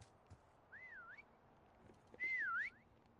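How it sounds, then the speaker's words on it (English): Two short melodic whistles, a rising-and-falling tune repeated, sound from somewhere in a Call of Duty match on PS5; the second is louder and closer, over faint background game noise. "whatever that was whistling"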